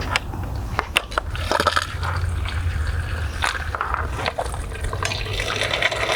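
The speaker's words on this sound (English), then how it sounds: "And then we start filling with approximately 20 liters" Roughly 20 liters of water is poured into the tank of a backpack fire pump used for forest fire suppression, a steady, close pouring and gurgling with scattered clunks and knocks running through the whole fill, with no talking.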